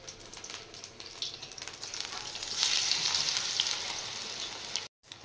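Vegetable fritters fry in hot oil, producing a continuous crackling sizzle that swells louder midway and then cuts off abruptly near the end, with no voices.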